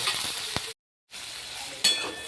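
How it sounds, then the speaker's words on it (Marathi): Eggplant frying in oil with tomato, salt and turmeric: a close, steady sizzle with light stirring clinks. A brief moment of silence cuts into the middle. "आता अशा प्रकारे आपले वांगे असे मस्तपैकी फ्राय करून घ्यायचे"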